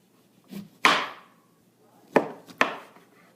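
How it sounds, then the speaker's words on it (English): A knife cuts through lemons onto a cutting board, giving three or four sharp, close thunks with short decaying tails, spaced irregularly with quiet gaps between them. "So first, slice off the icky ends."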